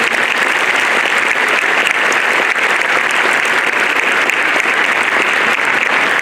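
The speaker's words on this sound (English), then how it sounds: "Please give me a round of applause for all of these amazing officers" A school audience at a National Honor Society ceremony gives the society's officers a loud, sustained round of applause, thick overlapping clapping that stays at full strength from start to finish.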